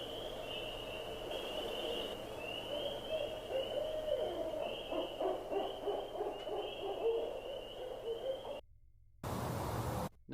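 Barred owl giving its 'who cooks for you' hooting call, a rhythmic series of deep hoots repeated over a steady high insect-like drone, fairly close, with a brief cut near the end and no talk.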